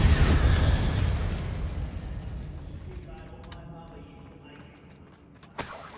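A Bombarda spell explosion goes off in Hogwarts Legacy: a loud, heavy blast at the start that rumbles and slowly decays over several seconds, ending with a sharp burst near the end.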